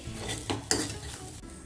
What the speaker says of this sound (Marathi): अगदी कोरडे होईपर्यंत आपल्याला ते परतवायचे आहेत